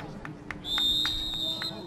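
Referee whistle at a high school boys lacrosse game, one sustained shrill blast partway through, over crowd noise and footsteps on the field.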